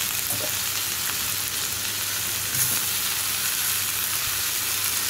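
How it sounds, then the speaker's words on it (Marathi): Leafy greens tossed in a pan with green chilli paste and a pinch of turmeric sizzle and fry steadily, a close, continuous crackling hiss with faint stirring scrapes throughout and no talking. "आणि त्यात मग भाजी टाकायची आणि भाजी चांगली परतून घ्यायची"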